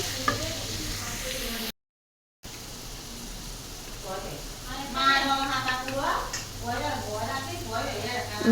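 Chopped vegetables with a pinch of salt and turmeric sizzle steadily in a hot pan, a soft continuous fry with a voice talking over the middle stretch.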